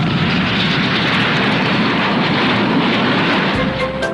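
A rocket launches right after a countdown with a loud, sustained roar that stays dense and unbroken throughout, like a continuous rumbling blast with steady low-end power and no voices heard.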